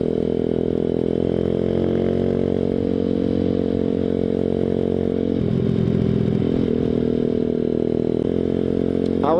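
Grom clone small motorcycle being ridden, a buzzy, steady single-cylinder engine drone that shifts and revs partway through, loud and close throughout with no talking.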